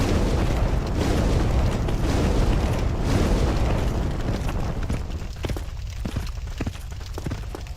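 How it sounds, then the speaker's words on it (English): A bow bursting into flames in Dark Souls Remastered, a dense roaring whoosh of fire with rumbling crackle that fills the scene, thinning slightly toward the end with scattered sharp pops. "And now the bow should start setting itself on fire."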